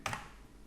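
A single sharp keypress on a computer keyboard, the delete key tapped once while working in CorelDraw, a quick close double click followed by quiet.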